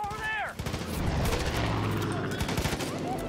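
Shotgun and other gunfire in the Far Cry 5 video game, with a rapid cluster of loud, close blasts after a short voice, under continuous game noise.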